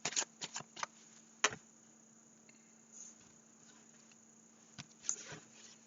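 Béline oracle cards handled and laid out on a table, a few soft close shuffling flicks and taps in short clusters separated by quiet gaps over a faint steady hum.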